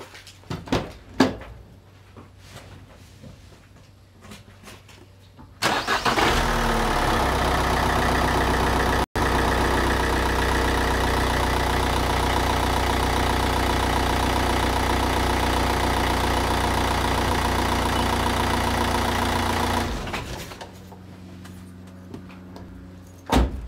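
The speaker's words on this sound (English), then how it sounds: "So I'm just going to go and crank the vehicle." A car engine cranks briefly, catches and settles into a steady idle that holds for about fifteen seconds before being shut off, with faint clicks and handling noises before and after.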